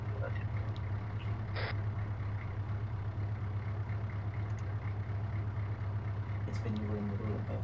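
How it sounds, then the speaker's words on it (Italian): A vehicle engine idles steadily in an Arma military co-op game, a constant low rumble running throughout with faint game sounds and voices over it. "E spegni quel motore."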